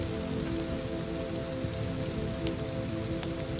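Soft rain falls in a steady, even patter of countless drops, a constant close hiss that stays unbroken and free of voices.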